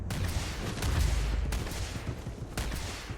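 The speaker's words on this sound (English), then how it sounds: "What the hell is she shooting at?" Gunfire from a shooter in the game Starfield: a rapid burst of repeated shots with sharp cracks and booming low thuds, loud and continuous over about three seconds, no talking.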